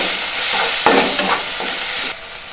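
Green chili and chili powder being stirred in a hot frying pan: a steady close sizzle broken by several sharp scraping stirs, with no voices.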